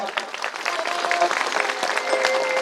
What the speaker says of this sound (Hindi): एक बार अपन उपस्थिति पर एक बार जोरदार ताली बजा दो आप सब।